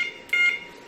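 An electronic fishing bite alarm gives a single short steady tone, loud and close, with no one talking.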